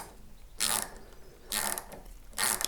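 Waxed screws are driven by hand into a wooden Telecaster guitar body, making three short, quiet, ratcheting clicking bursts spaced about a second apart.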